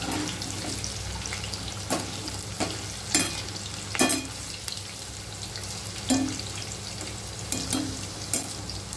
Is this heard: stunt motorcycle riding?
no